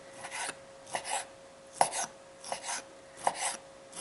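A knife slices pork loin into very small pieces on a cutting board, with a series of short rasping cuts in an uneven rhythm, close and fairly quiet, and no talking.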